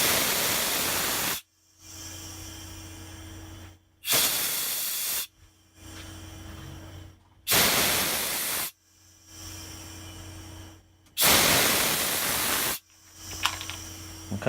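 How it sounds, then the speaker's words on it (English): CO2 gas purges the headspace of a filled keg of elderflower champagne, four loud, steady hissing bursts of a few seconds each, separated by short quiet gaps. "I've got the keg now filled and hooked up to gas, so I'm just going to purge"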